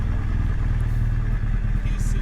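A motorcycle fitted with a Remus exhaust idles nearby at a deli stop, a steady low rumbling burble that holds evenly throughout, with faint voices in the background.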